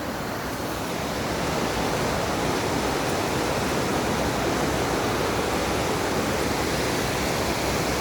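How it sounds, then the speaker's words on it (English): A flooded River Ebro rushes at full flow, a loud, steady broadband roar of churning water that stays constant and close throughout with no voices. "River Ebro, full flow."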